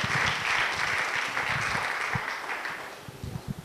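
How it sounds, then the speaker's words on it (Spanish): A church congregation claps for Jesus during a service, loud and close with sharp individual claps standing out, the sound thinning slightly toward the end. "Si esas palmas son para Jesús, ¿por qué no se las da con todo gozo al Señor?"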